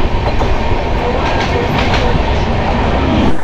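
Interior of the Kanchan Kanya Express, a new LHB train, running at speed: loud continuous rumble and rushing roar with faint rhythmic clatter of wheels on the rails, no voices.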